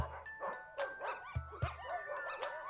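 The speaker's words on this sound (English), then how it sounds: "Oh, Barry, you've started the neighborhood dogs barking again." Several neighborhood dogs barking outdoors, a rapid irregular run of sharp barks and yips, some close and loud, others fainter, overlapping across the whole stretch with no talk.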